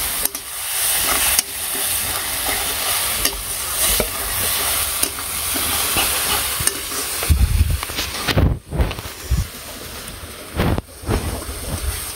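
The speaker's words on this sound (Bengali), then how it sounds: "মশলাটা ভালো করে কষাইতে থাকি।" Masala spice paste fries and is stirred in a hot pan in a village kitchen, with a loud steady sizzle and hiss broken by scraping stirs and knocks toward the end. No one speaks.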